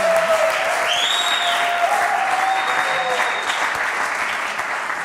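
A studio audience applauds loudly and steadily, a dense even wash of clapping that fills the whole stretch, with a few faint tonal sounds drifting over it.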